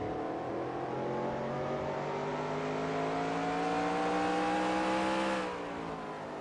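A NASCAR race car engine at Martinsville in NASCAR Racing 2003, running with engine damage, holds a loud, steady high-pitched drone that climbs slowly, then drops off near the end.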